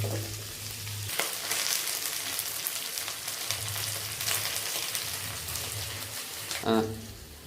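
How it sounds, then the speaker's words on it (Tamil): Onions sauté in a pan for a Tamil cabbage poriyal, a steady loud sizzle with occasional stirring scrapes, a low hum intermittently beneath. "நல்லா வதங்கட்டும். வதங்கி அதுக்கப்புறம் காய சேர்த்துக்கலாம்."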